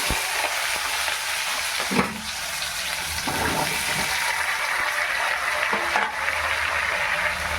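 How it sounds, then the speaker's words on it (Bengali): Vegetables poured into hot oil seasoned with panch phoron sizzle loudly and continuously, with a few clanks of utensils along the way. "এবার এই সবজিগুলো ঢেলে দিয়ে দেবো।"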